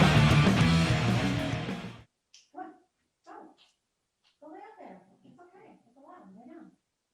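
A dog barks in short, sharp bursts that repeat irregularly after a loud stretch of other sound cuts off, with people talking around it.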